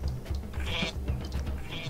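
Sheep bleating in the strategy game Northgard, a steady, fairly loud stretch of animal calls over a continuous low game ambience, with no talk.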